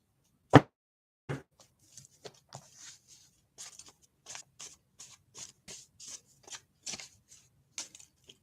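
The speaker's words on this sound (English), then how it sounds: "let us go to the other deck of index cards." A deck of index cards handled and shuffled: one sharp slap, then a steady series of light, papery flicks and riffles close by, with nothing else heard.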